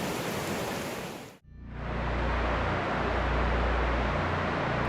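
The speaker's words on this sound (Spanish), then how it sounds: "En estas imágenes se puede ver la rotura de una presa en Texas" Dam break in Texas, with a continuous loud roar of rushing floodwater that cuts out for a moment and then returns as an unbroken, heavy torrent with deep rumbling underneath.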